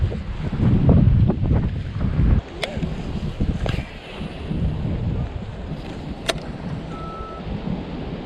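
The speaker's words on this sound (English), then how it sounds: "this wind is literally like a dang hurricane" Strong wind buffets the microphone on a fishing boat out on the water, a loud, continuous roaring rumble that swells and eases, with a few sharp knocks breaking through.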